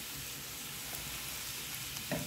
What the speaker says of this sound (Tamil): இப்போ நாங்கள் இந்த வெஜிடபிள்ஸை வதக்கி கொள்வோம்.